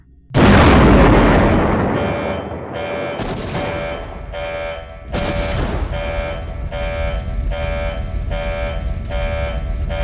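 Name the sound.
generator explosion in a FNAF 3 video game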